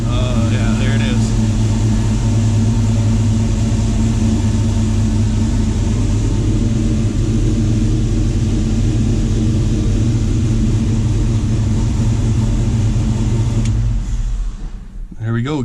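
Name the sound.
truck engine started and running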